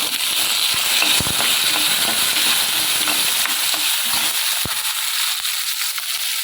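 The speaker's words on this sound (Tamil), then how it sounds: "வெங்காயம் நல்லா வதங்கட்டும்" Small onions sauté in a hot pan, giving a loud, constant sizzle close by. Sharp crackles and pops are scattered throughout, and the sizzle eases slightly near the end, with no speech.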